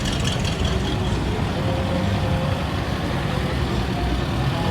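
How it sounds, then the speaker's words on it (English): A 1964 Datsun pickup truck rumbles past at a crowded Route 66 car show, a steady low engine drone with broadband street noise holding level throughout, close by and fairly loud. "Datsun pickup."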